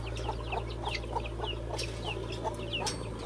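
Guinea fowl cluck in short repeated calls at a farm, with several birds chattering near and slightly farther off over a steady low hum.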